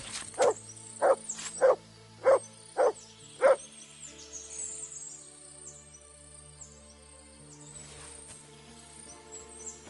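A dog barks six times in a steady, evenly spaced run in Kingdom Come: Deliverance II, loud and close, followed by quiet ambient music and background sound.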